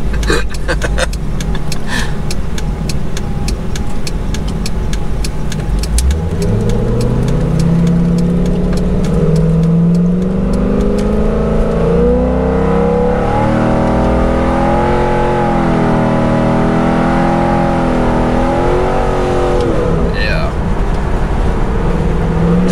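A car with a 4L60E automatic transmission accelerates in first gear, its loud engine note climbing steadily in pitch over several seconds, falling back, then rising again close by as people talk over it.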